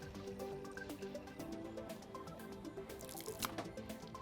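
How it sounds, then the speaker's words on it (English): Backwash water from a whole-house water filter running and dripping, a faint, close trickle with irregular splashy drips and small gurgles. "So we'll continue to run the backwash for about 15 to 20 minutes."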